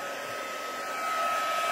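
A hair dryer blows steadily on paper wet with spray ink, a loud continuous whoosh and whine that swells slightly toward the end, with no voice.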